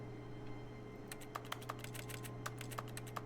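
Keyboard typing effect played when objects are touched in The Stanley Parable, a low hum first, then a quick run of crisp, close key clicks in an uneven rhythm, with no talk.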